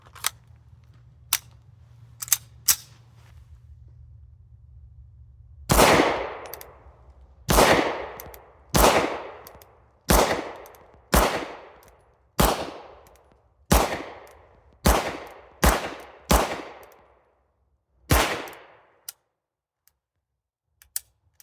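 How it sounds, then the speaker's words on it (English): A firearm loaded with mixed hollow point rounds fires a magazine of about a dozen loud, sharp shots with ringing decay, irregularly spaced over several seconds, preceded by a few faint clicks of handling. "I'm gonna fire it as it was found"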